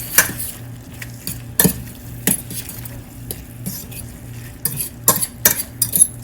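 Lemon pasta frying in a hot pan, with a low sizzle and sputter under repeated scrapes and clinks of a utensil stirring against the metal, close and fairly loud.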